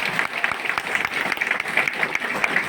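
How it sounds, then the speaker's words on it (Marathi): An audience applauds loudly, with dense, continuous clapping sustained evenly from start to finish. "जोरदार टाळ्या वाजवा."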